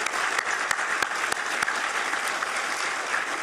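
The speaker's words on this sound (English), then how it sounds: "join me in giving all of these folks a round of applause" A round of applause at a Hall of Fame ceremony, a sustained, even wash of many hands clapping from a seated audience, with a few sharper claps standing out.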